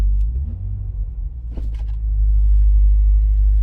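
A 2007 Chevrolet Corvette Z06 engine idles with a deep, steady low rumble up close, swelling a little louder toward the end with a brief click midway.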